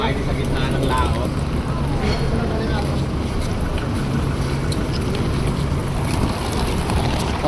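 Passenger ship Santa Margarita out at sea on a Calapan crossing, a constant rumbling engine and water wash with buffeting wind noise on the microphone, loud and steady, with people talking faintly underneath.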